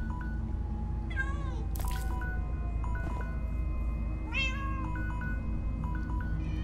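Several cartoonish cat meows from Minecraft Story Mode rise and fall over steady game background music, with short clicks of game interface sounds between the cries.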